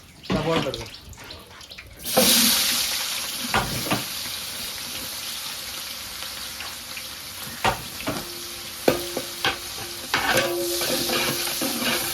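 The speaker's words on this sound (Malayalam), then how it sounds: "നമ്മുടെ എണ്ണ നല്ല ചൂടായിട്ട് എനിക്ക് പട്ട ഗ്രാമ്പു ഏലക്ക" Cinnamon, cloves and cardamom frying in hot sunflower oil for biryani, a steady close sizzle that jumps up sharply with stirring, broken by a few clinks and knocks.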